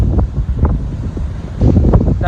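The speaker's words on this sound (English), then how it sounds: "it's kind of windy, so I hope you can hear me" Blustery wind buffeting a microphone at the coast on Hawaii's Big Island before sunrise, a steady low rumble with gusts swelling throughout and swelling louder near the end, with faint voice-like sounds in the mix.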